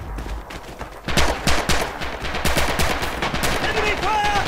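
Rapid gunfire from the World War II shooter game Red Orchestra 2 during infantry combat, a dense run of sharp shots and bursts that starts after a quieter opening second and keeps going at a steady loud level, with faint voice fragments beneath.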